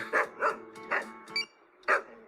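A dog gives five sharp, close barks in an uneven rhythm, a short pause before the last one, alone against a quiet indoor background.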